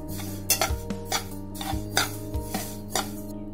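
Sesame seeds roasting in a pan are stirred with a utensil, giving repeated metallic scrapes and clinks in an uneven rhythm over a steady background hum.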